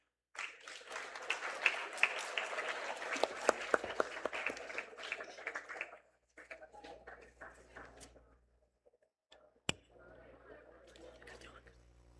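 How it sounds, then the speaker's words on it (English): At a school Independence Day assembly, the audience applauds an award presentation. The clapping is faint and roomy for about six seconds, then stops, and quieter sounds and a sharp knock follow. "A round of applause, please."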